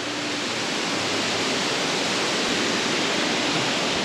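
A steady, dense roar of a waterfall fills the air, constant and loud with no pauses.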